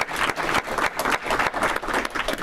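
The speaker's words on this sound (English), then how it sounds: "So round of applause for Dave Basil for coordinating all of this." A room of Rotary club members claps together in a round of applause, dense and steady throughout, close and lively with no voices over it.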